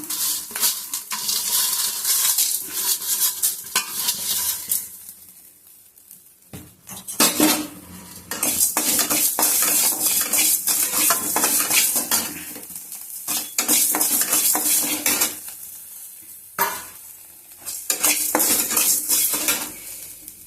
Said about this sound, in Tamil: இப்போது கல் உப்பு வச்சுருக்கோம் இல்லையா, அதையும் நம்ம வறுத்து எடுத்துக்கலாம்